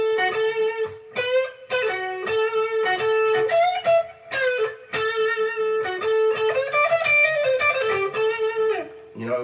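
An electric guitar plays blues licks on the top three strings in a box position, with bent notes and short phrases separated by brief gaps, close and clear with no talking.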